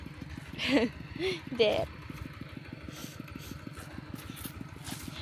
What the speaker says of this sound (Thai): อันนี้รถไถ